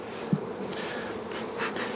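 A low, steady hum of honeybees droning around a hive on a pallet, with a few brief louder buzzes as bees pass close by.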